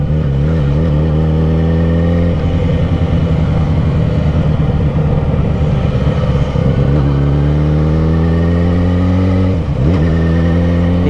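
A loud engine revving as a car accelerates close by, pitch rising through the gears with a couple of dips between shifts.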